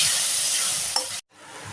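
Ghugni peas masala frying in a pan, a close hissing sizzle that cuts off abruptly for a moment and then resumes more softly.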